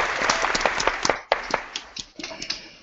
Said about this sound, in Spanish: me gustaría daros un fuertísimo aplauso antes de continuar.